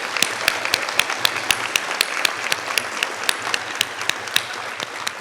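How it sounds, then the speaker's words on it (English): A Columbus Rotary audience applauds Rick Studer at a Student Service Above Self Fair, with steady, fairly loud clapping and a few sharp, distinct claps standing out rhythmically near the front. "I want to take an extra second to give Rick a round of applause."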